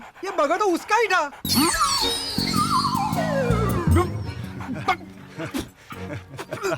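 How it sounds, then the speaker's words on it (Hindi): A dog barks and yips in a Hindi comedy film scene, brief sharp barks mixed with loud dialogue, music and busy street-like background sounds, with people speaking throughout. "कुत्ता क्यों भौंक रहा है?"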